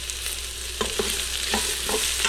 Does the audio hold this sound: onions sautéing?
yes